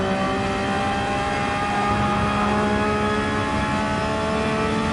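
A Porsche 911 engine holds a steady high-pitched drone at full throttle on the Monza circuit in Gran Turismo 7, unbroken and loud for five seconds with no talking.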